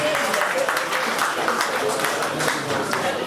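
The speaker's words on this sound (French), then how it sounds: "c'est vos acclamations, chers invités" Guests at a Cameroonian birthday party applaud and cheer, a steady, loud wash of clapping that runs throughout, mixed with shouting voices.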